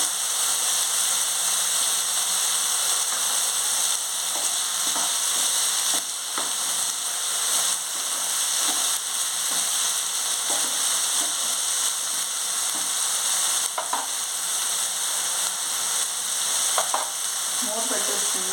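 Small potato pieces sizzle loudly in a pan of oil and are stirred now and then, with scraping taps over a constant frying hiss and no talking.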